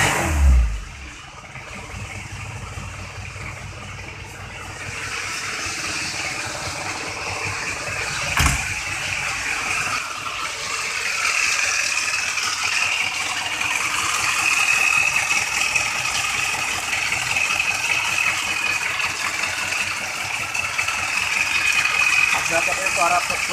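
An Isuzu Panther 2.3 engine with heavy blow-by cranks into life with a short burst, then settles into a steady, moderately loud idle, while someone talks over it.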